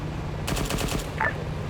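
Automatic gunfire in the Arma 3 video game during a German WW2-themed event, a short burst of rapid shots a moment in, followed by a faint ping.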